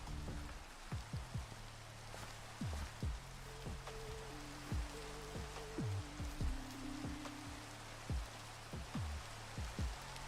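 Dweller footsteps in Minecraft with the Create Dweller mod, a soft rain-like patter of irregular low thumps and drips under a steady hiss, fairly faint.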